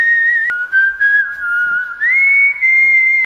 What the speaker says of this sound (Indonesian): Bersiul di malam hari mengundang makhluk halus.